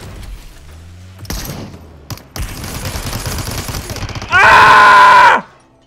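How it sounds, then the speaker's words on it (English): Gunfire in the battle-royale video game Super People: a few scattered shots and impacts over a noisy game background, followed by a loud, sustained burst near the end that cuts off sharply. "See where they're shooting at us from."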